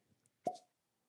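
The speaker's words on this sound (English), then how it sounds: "So let's see what the cork pop is." A cork pops once from a bottle: a single soft, short pop in an otherwise quiet room, with no talking.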